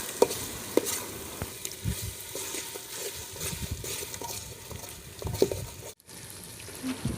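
Garlic paste frying in a pan for mutton biryani, cooked on a rooftop terrace, is stirred steadily: a continuous close sizzle broken by repeated spoon scrapes and light clinks, with no talking.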